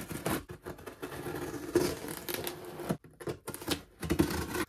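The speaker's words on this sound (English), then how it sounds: "let's tear this box open" Cardboard box being torn open by hand: quiet, close rasping rips and crinkly scraping in uneven bursts with brief pauses, no talking.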